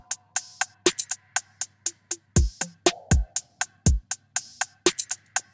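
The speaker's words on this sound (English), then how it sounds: "The drums now, with everything that I added, sounds like this." Programmed drum loop with layered percussion and rapid hi-hat rolls, crisp ticking hits over a steady low hum, punctuated by several deep kick-like booms, tight electronic rhythm produced in Studio One.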